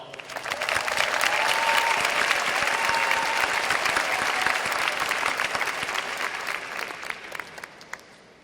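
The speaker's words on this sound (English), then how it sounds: "give yourself a round of applause" Graduates and audience at a 2022 Cherry Hill West high school graduation ceremony burst into sustained applause, a broad crowd of clapping that holds strong for several seconds and thins out toward the end.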